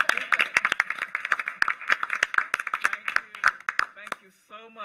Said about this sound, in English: we were going to applaud